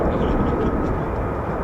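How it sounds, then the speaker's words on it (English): F-35 fighter jets taxi at RAF Lakenheath, home of the 48th Fighter Wing, their engines a steady, loud low roar and rumble that holds without a break. "I can definitely hear F-35s taxiing"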